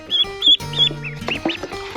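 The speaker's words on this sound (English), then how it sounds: "We're about to disqualify one of the ducks." Ducks quacking close by in short, uneven bursts of nasal calls, with a dog present during a backyard game.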